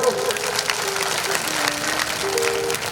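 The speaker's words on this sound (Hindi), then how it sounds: "कम से कम एक बार जोरदार ताली तो बजा दिया करो।" Devotees clap loudly at a religious gathering, a dense, steady wash of applause lasting the whole clip, with faint tonal sounds and murmuring voices mixed in.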